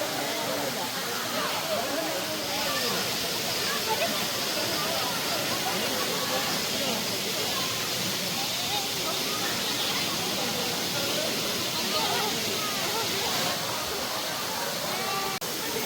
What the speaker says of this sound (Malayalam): വെള്ളച്ചാട്ടം തന്നെയാണല്ലോ.